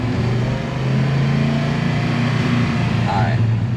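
Chevrolet El Camino engine revving under load while a transmission shift is tested, a loud steady droning roar from inside the vehicle, with people talking over it.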